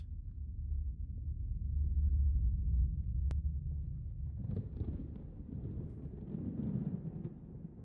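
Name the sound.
storm rolling in the background in Helldivers 2 video game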